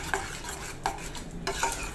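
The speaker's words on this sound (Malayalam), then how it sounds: "നല്ലപോലെ ഒന്ന് മിക്സ് ചെയ്ത് കൊടുക്കുക" A spoon scrapes and stirs spicy tomato chutney in a pan over a low sizzle, with a few short clinks at a steady pace and no voice.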